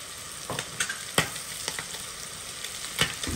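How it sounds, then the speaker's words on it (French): Ham frying with onions in a pan, a constant sizzle broken by several distinct scraping strokes as the mixture is stirred, with no talk. "Je tourne un peu ici mon jambon"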